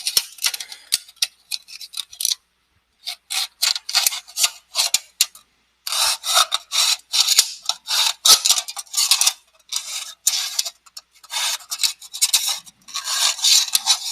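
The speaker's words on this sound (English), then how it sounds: "I'm able to cut through that with my pocket knife and an X-Acto knife." A pocket knife and an X-Acto knife scraping and cutting through thin aluminum, heard up close as bursts of bright rasping strokes with brief pauses between them.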